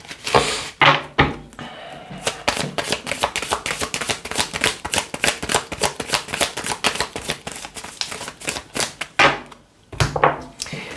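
A deck of tarot cards is shuffled up close in a rapid riffling run of crisp flicks and slaps, broken by a few louder taps and pauses, with no talk.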